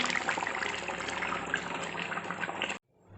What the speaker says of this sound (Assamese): কিমান ধুনীয়াকৈ উতলি আছে।